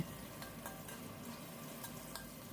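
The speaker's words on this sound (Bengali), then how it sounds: "হলুদ নুন মিশিয়ে নিয়ে আলুটাকে ভাজা ভাজা করে নিতে হবে।" Potato pieces frying in a pan with turmeric and salt give a steady, even sizzle that holds for the whole stretch, with a few faint stirring scrapes and no voices.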